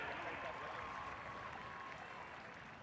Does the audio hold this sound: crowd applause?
yes